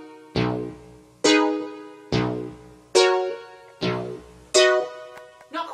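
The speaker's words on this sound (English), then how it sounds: "Without the delay pedal, it would sound like this." An electric guitar played dry without a delay pedal, six separate strummed chords at a steady, slightly uneven pace, each struck sharply and ringing out before the next, close and clear with no talk.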